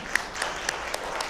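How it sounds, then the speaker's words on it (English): Brief, light audience applause at a live performance, a thin patter of scattered claps with a few sharper individual hand claps standing out. "let's give them a little round of applause"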